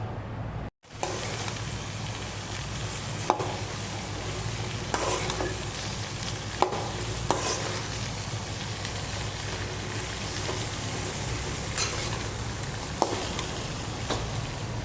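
Mango pieces for pickle are stirred in hot oil, making a dense, steady sizzle like light rain, with a few sharp ladle clicks after a brief silent gap at the start.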